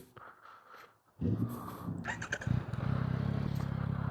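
Yamaha 900cc motorcycle at a gas station, a quiet lead-in and then the engine sounding close and rising as the bike is ridden off into a steady drone.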